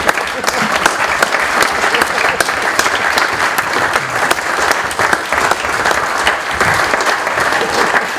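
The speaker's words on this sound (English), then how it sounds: "he really deserves, you know, a round of applause for all his effort" Dense, steady audience applause fills a hall at a British youth speedway awards evening, loud and continuous from start to finish with no break.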